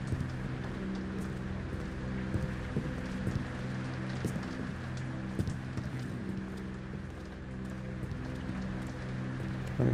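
Video game rain pouring steadily, a broad continuous wash of water noise with a low hum beneath and occasional faint taps, no talking.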